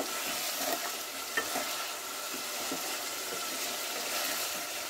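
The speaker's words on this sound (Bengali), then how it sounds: "তো লবণ দিয়ে আমি ভালো করে কষিয়ে নিয়েছি।" Desi chicken pieces sautéed with salt in oil give a steady broadband sizzle, broken by scattered scraping and stirring clicks, close up and moderately loud with no speech.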